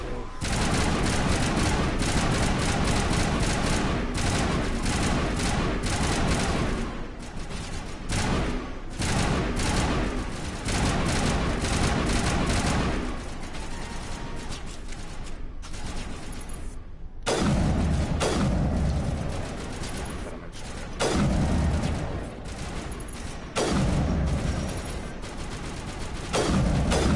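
Rapid bursts of gunfire and explosive shots from combat in the Mass Effect Legendary Edition video game, sustained and loud nearly throughout, with brief lulls, while someone talks over the action.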